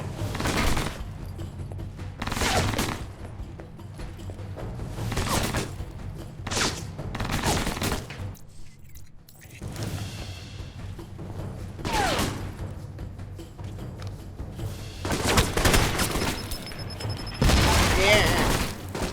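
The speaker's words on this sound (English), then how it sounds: "throws grenades inside their own base." Grenade explosions and gunfire in the Alpha Protocol video game, repeated booming bursts at irregular intervals mixed with game sounds, with people talking over them.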